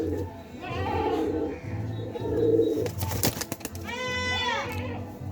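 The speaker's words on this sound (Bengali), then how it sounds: "এই যে এই কবুতরটা আমাদের বাসায় একটা অতিথি কবুতর।" A visiting male pigeon, red-green in colour, coos at home in several repeated low throaty calls, close by under ongoing background sounds, with a brief burst of clatter midway.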